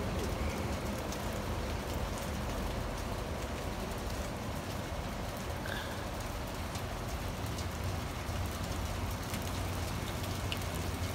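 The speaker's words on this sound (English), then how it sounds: "It is raining." Steady rain patters continuously on surfaces, a dense even hiss of drops that stays constant throughout with no voices.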